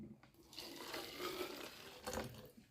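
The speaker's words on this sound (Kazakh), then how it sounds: "міне 200 грамм ыстық су құямыз" Boiling water is poured over nettle leaves and cloves, a soft continuous splashing and trickling that swells and fades in short bursts, quiet and close, with no talking.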